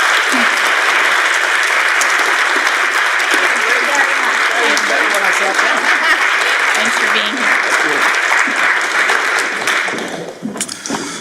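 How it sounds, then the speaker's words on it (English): Loud, dense audience applause welcoming the District Attorney to the stage at an event on ending mass incarceration, continuous clapping throughout that thins near the end as a voice speaks briefly. "thank you for all of that excess applause"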